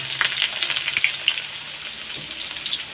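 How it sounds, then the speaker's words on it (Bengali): Onions fry in hot oil with whole spices and cumin, giving a close, continuous crackling sizzle with small popping spatters throughout. "তো এই যে পেঁয়াজটা আগে ভেজে নেব।"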